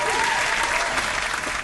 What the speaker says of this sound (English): we had to give that a round of applause